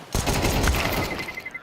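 A rapid burst of P250 pistol shots in the video game Counter-Strike 2, several sharp reports in quick succession over about a second, loud and close.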